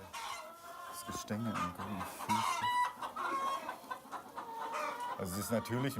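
Hens on an organic farm cluck in bursts of short, close calls, with several birds overlapping irregularly and brief pauses between outbursts.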